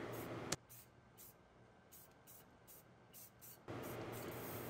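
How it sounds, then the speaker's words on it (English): Aerosol spray paint hissing onto a 3D-printed part, a loud burst at the start and another from about 3.7 s on, with quieter short hisses between them. "So I'm just continuing with the spray and trying to even out the lightness around the area"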